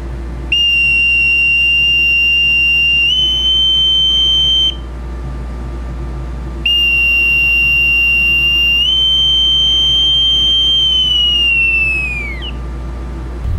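Navy boatswain's pipe sounding the all hands call, a shrill steady whistle held long, rising slightly in pitch, pausing, then sounding again and trailing off downward; loud and close over faint background hum.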